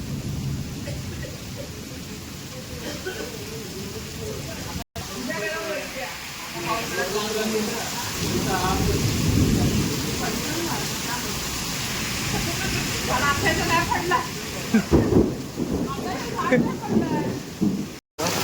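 Heavy unseasonal rain pours steadily in the Konkan during a sudden storm, a dense hiss with low rumbles of thunder beneath, while voices talk over it at times.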